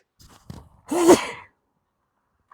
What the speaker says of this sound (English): Sorry, I did not mean to sneeze on y'all.